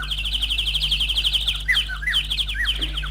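Bright chirping birdsong on a sunny day, a steady run of quick repeated high tweets followed by scattered sweeping calls, close and clear over a low hum.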